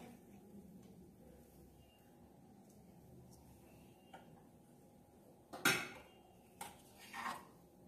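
Cooked pulao rice tipped into a pan with a few quick scraping clatters of a utensil against the metal, mostly near the end, over a quiet background with no talk.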